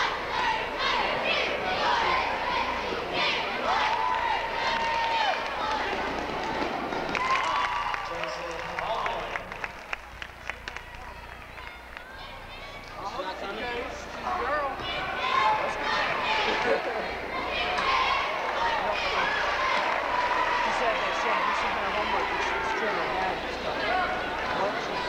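A crowd at a 1994 high school basketball game claps and cheers for a cheerleading cheer, with a dense roar of voices and claps that dips briefly midway before rising again, while people talk close by.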